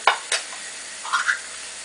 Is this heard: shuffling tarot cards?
no